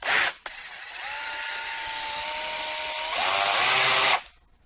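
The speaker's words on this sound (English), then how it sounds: "it's a nice electric sander" A Black+Decker cordless drill with an electric sander attachment runs for about four seconds: a steady high mechanical whine that gets louder near the end and then cuts off, close by, with a click before it starts.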